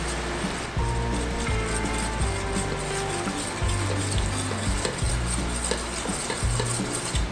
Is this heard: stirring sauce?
yes